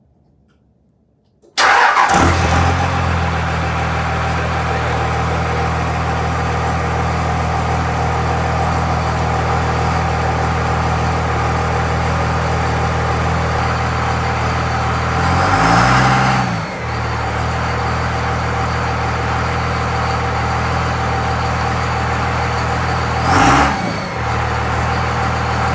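A diesel pickup with a PDD Aggressor 60/64 turbo and a Banks exhaust cranks and fires up after near silence, then settles into a steady, fairly quiet idle with a couple of brief revs later on.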